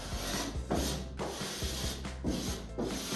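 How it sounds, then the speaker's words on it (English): A LiNBiDE scraper drags across plasterboard, taking off plaster overspray in close, rhythmic rasping strokes, about five in quick succession with short gaps between them. "Best tool we found, LiNBiDE, is very good. You just scrape, as you can see here."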